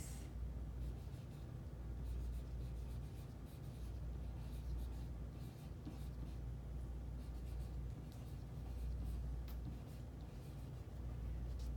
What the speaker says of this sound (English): I'm going to write the number of weeks.